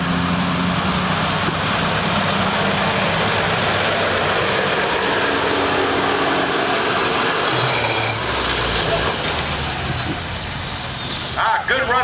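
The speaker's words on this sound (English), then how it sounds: "driving the big Kenworth, Mike Wessenberger." A big Kenworth truck engine roars during a tractor pull, a loud, sustained drone with high whine overhead, shifting in pitch toward the end as the run winds down.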